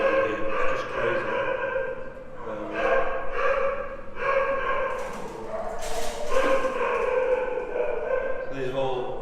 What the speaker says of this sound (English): Dog pound here, it's just crazy.